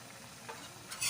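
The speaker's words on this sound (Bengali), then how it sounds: "আবার ভালো করে কষিয়ে নিতে হবে।" Shredded cabbage with a spoonful of sugar is stirred and fried in a pan, giving a soft steady sizzle with brief scraping stirs, heard close up and without talk.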